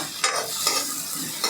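Finely chopped onion and garlic are stir-fried in a pan for steamed momo filling, giving a continuous sizzle with a few scraping strokes of a spoon.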